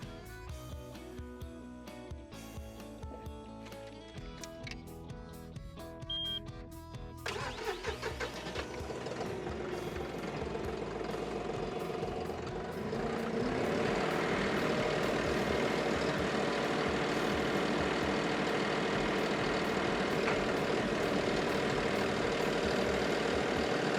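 A John Deere 520M loader on a tractor runs, the engine starting up and settling into a steady, loud drone that grows fuller and rougher partway through, close and alone with no talk.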